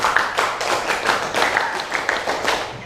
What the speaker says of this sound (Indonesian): Coba tepuk pramuka dulu ya biar semangat.